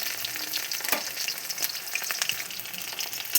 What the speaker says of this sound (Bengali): কতগুলো পকোড়া একবারে ভেজে নিচ্ছি।